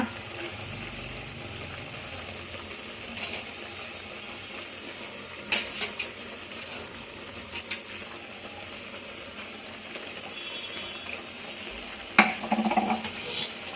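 Chicken frying with finely ground masala paste for a homemade country-chicken sambar, a continuous sizzle under clinks and scrapes of a spoon stirring in the pan, with faint background noise.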